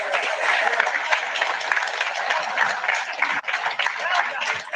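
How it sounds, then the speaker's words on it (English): A Toronto audience at a CARP event applauds the Conservative Party leader, a dense, sustained roar of many hands clapping that stays loud throughout with only a brief dip. "How about one more round of applause for the leader of the opposition"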